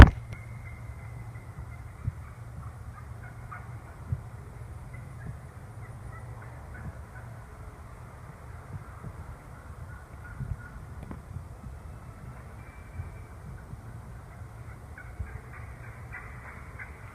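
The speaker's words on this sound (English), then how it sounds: "I see a bunch of turkeys coming off the roost" Faint wild turkeys gobble in the distance over a low, steady outdoor hum.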